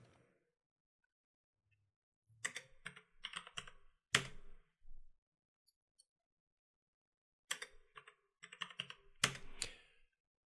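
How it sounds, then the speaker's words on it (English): Typing on a computer keyboard while entering parameters in video-editing software, heard as two quick bursts of clustered key clicks separated by a silent pause, close and fairly faint, with no talking. "I'm just going to go ahead and type in the parameters"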